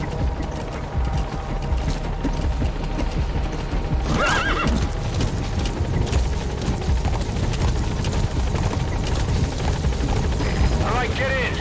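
A support helicopter arrives at a landing zone in the video game Metal Gear Solid V, its rotor drone steady and loud beneath horse neighs, clip-clopping hooves and mechanical clicks.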